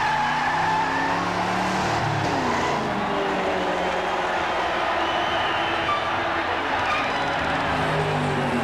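Several car engines roar and race together in a loud, continuous rumble with rising and falling pitch sweeps, close and steady throughout, with no talking.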